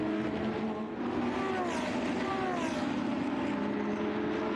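Lamborghini race cars at the 2023 Lamborghini World Finals sweep over the finish line, a sustained loud engine roar with rising and falling pitch as cars pass close by.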